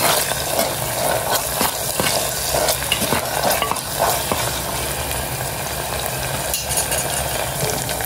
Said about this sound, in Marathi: आपण आता त्याच्यामध्ये टोमॅटो टाकूया। ते टोमॅटो पण मऊ होईपर्यंत